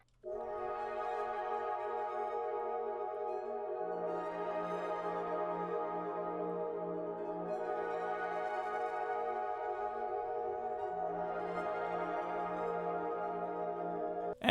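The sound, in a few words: simple chord progression beat melody in FL Studio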